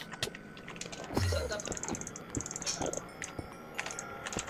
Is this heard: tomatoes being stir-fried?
no